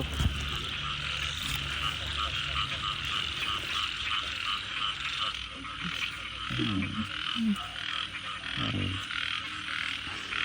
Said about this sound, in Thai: เราจะดูกบเหรอ